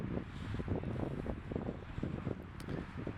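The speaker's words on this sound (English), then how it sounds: "You can hear the wind." Steady gusty wind buffeting the microphone, a continuous low rumble with fluctuating bursts and no voices.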